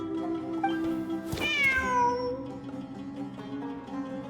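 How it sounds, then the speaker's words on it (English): A cat meows once in the video game Genshin Impact, a clear rising-then-falling cry over a quiet background of soft music tones. "Wait, there it is! The cat!"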